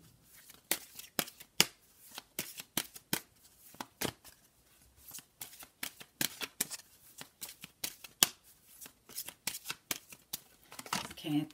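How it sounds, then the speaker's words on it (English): Doreen Virtue oracle cards being shuffled by hand, a steady run of crisp riffling and flicking bursts, close and fairly quiet, with brief pauses between passes. "So I'm going to give these cards a quick shuffle."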